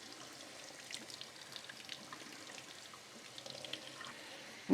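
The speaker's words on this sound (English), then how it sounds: "I'm going to run this water through there until it runs clear" Tap water runs through soaked beans in a pot to rinse them, a faint steady trickle and splatter with light irregular drips, ending in a sudden clunk.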